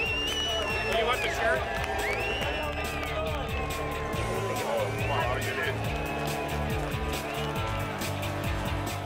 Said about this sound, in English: They head to the scales, spurred on by the cheering crowd.